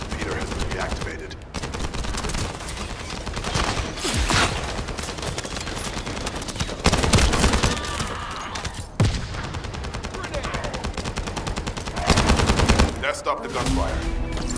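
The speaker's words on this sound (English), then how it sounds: "Stop the gunfire." Rapid automatic gunfire rattles through a shooter game scene in The First Descendant, with dense loud bursts broken by brief pauses and heavier impacts, and voices partly audible under the shots.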